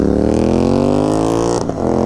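GT 650 and 390 motorcycles launch in a drag race, a loud, close engine roar climbing steadily in pitch as they accelerate, with no voices.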